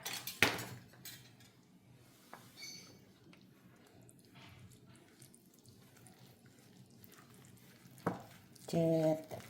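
Soaked fruit and its juice folded into an eggless plum cake batter, soft wet scraping and faint clinks of a utensil against the bowl, with a louder knock near the start and a clatter at the end.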